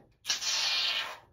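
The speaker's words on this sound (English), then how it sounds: "just going to spray it old school into my hand" Shaving cream sprays from a can into a hand: one close, steady hiss lasting about a second, preceded by a brief quiet moment.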